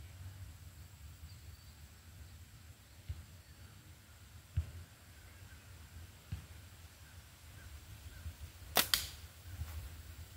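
Slingshot shots in an accuracy challenge, a few sharp snaps spaced seconds apart over a quiet outdoor hum, ending with a louder double crack near the end.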